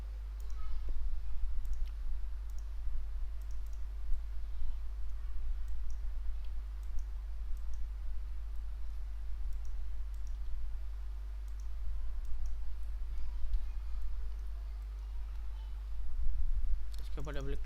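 Computer mouse clicks during work in PowerMill CAM software on a PC, faint sparse ticks scattered through a steady background hum, with someone speaking Hindi over them.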